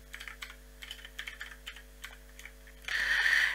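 Quick, light taps on a computer keyboard in short uneven bursts, close and crisp over a faint hum, ending in a brief louder electronic tone.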